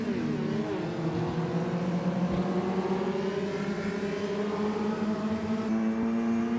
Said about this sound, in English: Dan starts drifting it around the last hairpin.